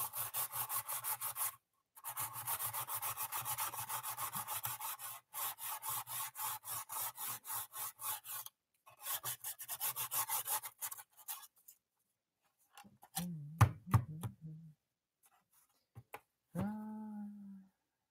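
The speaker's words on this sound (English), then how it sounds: "Is that sanding too loud?" Hand sanding with a small piece of sandpaper, a steady rapid scratchy rubbing in long bursts with brief pauses, close up, followed by a few clicks and light handling sounds at the end.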